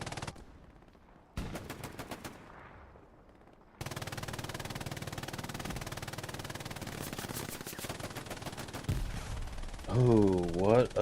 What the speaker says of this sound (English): MG42 just absolutely ripping.